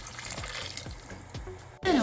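Water is poured into a cooking pot while rice is boiled for a home-made chicken biryani: soft trickling and small drips, then a loud, close gush near the end whose pitch rises as the pot fills.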